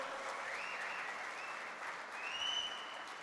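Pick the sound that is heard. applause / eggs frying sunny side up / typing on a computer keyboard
applause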